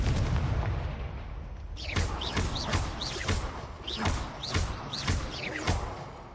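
Confringo spells in a video game fire in a rapid series of sharp explosive bursts, roughly one every half second, each a punchy blast with a whooshing tail over a rumbling backdrop.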